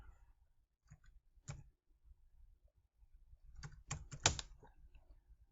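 A few sparse, quiet clicks of keys on a computer keyboard, with a single tap and then a short cluster of keystrokes close by in an otherwise quiet room.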